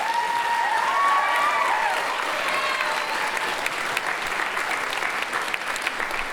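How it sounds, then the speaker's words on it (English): Audience at an evening school band and orchestra concert applauding the percussion section, a steady wash of clapping from a large crowd that carries on throughout, with a faint lingering tone early on. "Please a round of applause for our percussionists."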